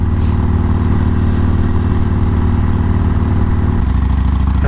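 The engine of a 48 motorcycle on a ride, a loud, steady low rumble with a slight shift near the end and constant wind, up close.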